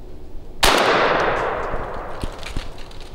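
A single loud, close shotgun blast from a Benelli Super Black Eagle 3, fired at a squirrel while hunting outdoors, rings with a broad sharp crack and a decaying outdoor echo, followed by a couple of faint knocks.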